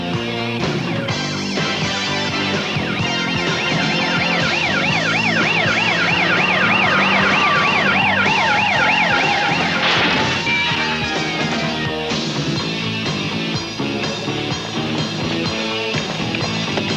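A police car siren wails, sweeping rapidly up and down over a busy, loud background, then shifts to a slower wail as it continues.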